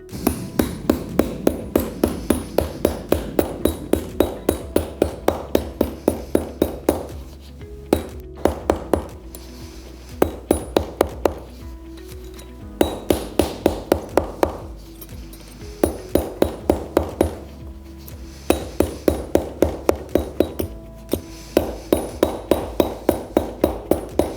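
Hammer blows doming sheet metal petals at a metalworking workshop, ringing metallic strikes in rapid even bursts, loud and close, broken by brief pauses between runs of blows.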